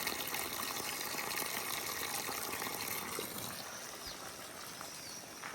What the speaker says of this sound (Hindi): पानी का तुरतुराहट